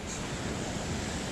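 Sea surf washing onto the shore at a new sea fishing mark, a steady broadband wash with no breaks, loud and close, with some wind buffeting the microphone.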